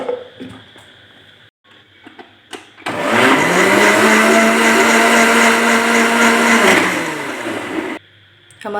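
An electric blender whirs loudly for about five seconds mixing dates and milk into a milkshake, starting abruptly and winding down, with quieter handling noises before and after.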